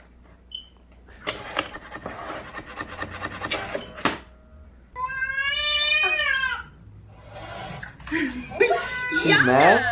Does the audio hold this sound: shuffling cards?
no